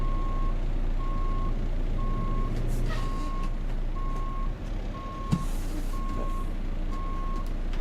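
Greyhound bus reversing beeps in a bus simulator game: a steady, evenly spaced series of loud single-tone beeps repeating about once a second over a constant low engine hum.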